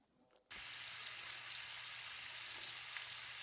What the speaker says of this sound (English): And I'm going to drop them in the hot grease.